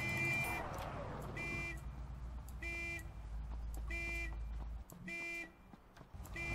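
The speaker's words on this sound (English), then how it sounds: "Where's my car keys so I can shut off my car alarm?" A car alarm in the Ring of Elysium video game blares in repeated pulsing bursts of electronic tones over a steady low rumble, fairly faint in the game mix.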